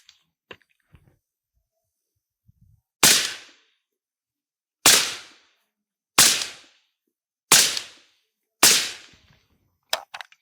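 A suppressed 5.56 rifle firing SS-109 rounds outdoors: five sharp, loud shots spaced about one to two seconds apart, each with a short decaying tail, preceded by faint handling clicks.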